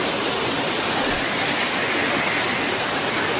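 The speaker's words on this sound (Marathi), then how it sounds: "आमच्या गावचा धबधबा," A village waterfall crashes down over fallen rocks, producing a steady, dense roar of rushing water close by with no voices.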